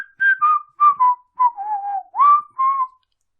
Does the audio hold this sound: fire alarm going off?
no